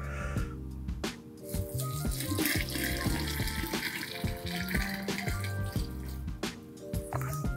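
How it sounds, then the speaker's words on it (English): Saltwater brine poured into a container of homemade soy sauce mash, a steady liquid pouring and splashing sound with drips, fairly close, alone without talk amid a busy kitchen background. "And now I'm gonna add my saltwater"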